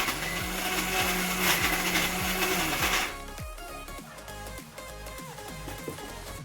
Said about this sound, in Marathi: आपण मिक्सर मध्ये लावून घेऊया